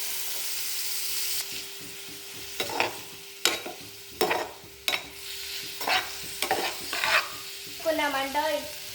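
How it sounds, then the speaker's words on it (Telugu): Paneer pieces fry in a pan while a spoon stirs them in irregular scrapes and clatters over a low, steady sizzle. Near the end comes a short warbling sound. "ఇప్పుడైతే పన్నీర్ ముక్కలు వేసుకున్నాం. ఇప్పుడైతే కలిపేసుకున్నామండి."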